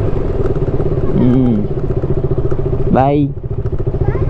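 A motorcycle engine hums steadily throughout a ride around Kodai, with a voice talking over it and a brief rising whoop near the end.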